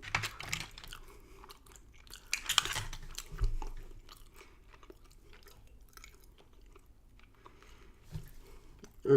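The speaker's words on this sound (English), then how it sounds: "I'll chew a couple extra seconds." Quiet, close chewing and crunching of Death Nut challenge nuts coated in Carolina Reaper pepper heat, with irregular bites and crunches that grow louder at moments.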